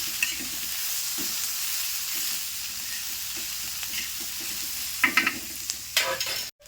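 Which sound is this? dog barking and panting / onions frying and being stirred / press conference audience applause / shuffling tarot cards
onions frying and being stirred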